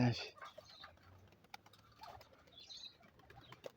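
A pigeon caught in a net: soft, irregular rustling and brief flapping bursts, fairly close, with faint background sounds and occasional light taps.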